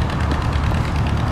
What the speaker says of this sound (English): There's a case engine over there.